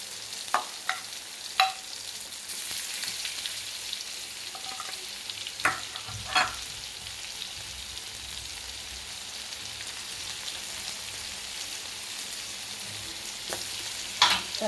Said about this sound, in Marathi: आणि याच कढईमध्ये आपल्याला थोडंसं बटर टाकून